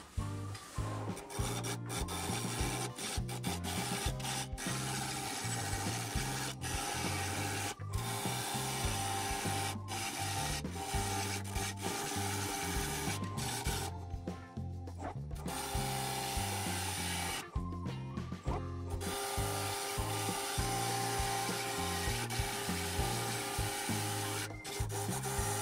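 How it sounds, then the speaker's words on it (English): A thick maple bowl spins on a lathe as its outside is trued up and sanded, a continuous loud rasping, rubbing drone with the motor hum beneath and a few brief dips. "So I'm going to just true up the outside now and sand everything."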